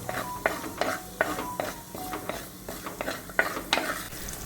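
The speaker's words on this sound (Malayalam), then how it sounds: "ഒരു 10-15 കഷ്ണം ചെറിയ ഉള്ളി ഇതിലേക്ക് ഇട്ട് കൊടുത്തൊന്ന് നന്നായിട്ട്" Small shallots being sautéed in a pan, with a light sizzle under repeated clinks and scrapes of a spoon stirring against the metal in an irregular rhythm.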